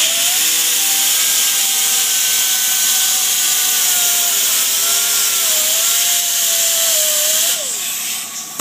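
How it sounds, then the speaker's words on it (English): A die grinder fitted with a small rubber-backed pad and 80 grit sandpaper faces a greens mower bed knife, giving a loud, continuous high whine with wavering pitch that drops off near the end. "We use a die grinder with an 80 grit sandpaper, little pad, rubber back,"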